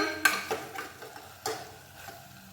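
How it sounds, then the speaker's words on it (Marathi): Chopped potatoes stirred into sautéed onions in a pan for kanda batata rassa, giving a few soft, close scrapes and light taps of the spoon against the pan, quiet with no talking. "यात आता आपण हे चिरून ठेवलेले बटाटे घालतो आहे थोडंसं मिक्स करूया"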